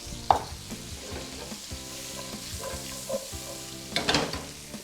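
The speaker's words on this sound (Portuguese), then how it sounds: "Acrescentar manteiga, um pouquinho de azeite de oliva e vou saltear esses aspargos" Asparagus sautéing in butter and a little olive oil in a frying pan, a soft steady sizzle with a few louder stirring and pan clatters; quiet and close, no speech.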